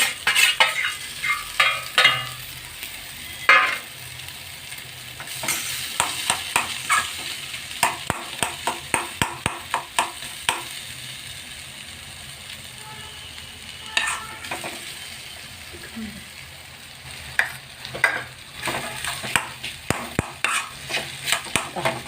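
Chopped tapioca sizzles in a pan with onions while a spoon stirs and scrapes in quick bursts of strokes, the frying hiss steady underneath and the clatter coming in irregular clusters, close and moderately loud.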